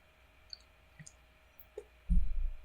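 A computer mouse gives a few faint, isolated clicks in a quiet room while someone works in Unreal Engine 5, followed by a short burst of low handling noise at the end.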